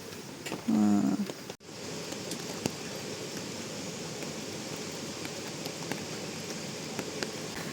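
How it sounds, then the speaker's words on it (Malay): Morning rain falls steadily at a campsite, a dense, even patter on surfaces close by, after a brief louder knock or voice-like sound near the start. "Nak jadi cerita pagi ni,"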